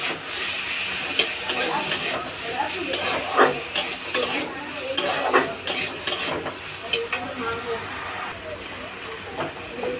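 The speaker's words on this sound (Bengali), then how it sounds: "আদা রসুন বাটা টমেটো সমস্ত কিছু একসাথে দিয়ে নাড়াচাড়া করে ভেজে নিচ্ছি" Ginger-garlic paste and tomato fry in a pan, a steady sizzle and hiss broken by clattering strokes of a spatula stirring, close and moderately loud.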